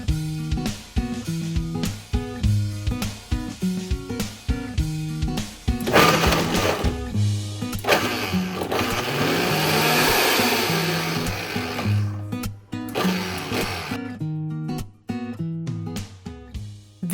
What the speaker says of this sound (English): I blend dates, almond butter, and a bit of milk until it turns into a smooth, thick caramel paste